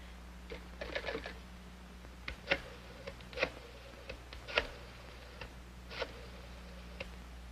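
An old telephone is dialed, producing a series of sparse, light clicks and ticks over a steady low hum in a quiet room.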